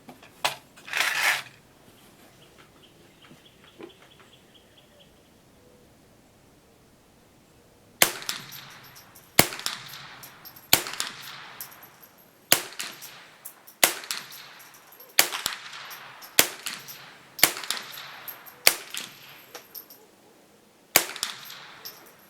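A Remington Nylon 66 semi-automatic rifle fires Remington Thunderbolt rounds: one sharp crack, a quiet pause, then about ten loud, snappy shots at a steady, unhurried pace, each with a short ringing tail.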